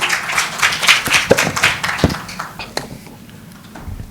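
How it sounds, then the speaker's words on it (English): Scattered applause from a modest audience, lively at first then thinning out, with a few voices mixed in. "Please give him a huge round of applause"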